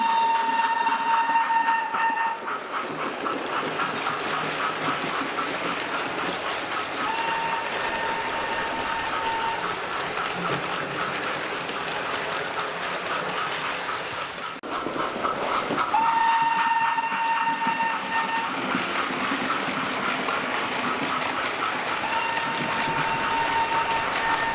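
A Hornby King class model steam locomotive with TTS sound runs past on its track, its steady rolling chuff and clatter continuous and fairly loud, fading briefly mid-pass before building again, with whistle-like tones on top.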